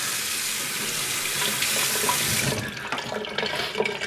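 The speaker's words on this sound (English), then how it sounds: "Now just give them a rinse off." Running tap water pours over pitted metal rods as they are rinsed in a sink, a steady close rush of splashing water that shifts in tone partway through.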